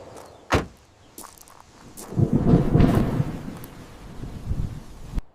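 Thunder rolls through a severe thunderstorm in a low, swelling rumble lasting a couple of seconds, framed by a few sharp knocks and thuds.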